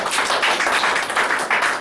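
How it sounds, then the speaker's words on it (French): A church congregation claps in praise of the Lord, a short burst of dense, rhythmic hand claps close up and fairly loud, with no talking. "Acclamation pour le Seigneur."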